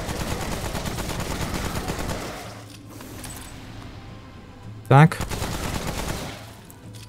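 A single loud upgraded shotgun blast rings out midway through in Remnant: From the Ashes, amid game noise, with a brief spoken word earlier.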